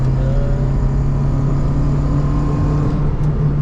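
Renault Megane Coupe engine held at high revs, a steady droning hum with a sustained low tone heard from inside the car, loud and even across the stretch.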